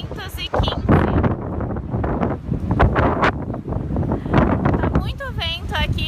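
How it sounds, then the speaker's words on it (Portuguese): Strong wind buffets the microphone by the riverside at Belém Tower in Lisbon, Portugal, a loud, continuous roar with gusts, while people talk over it. "Tá muito vento aqui"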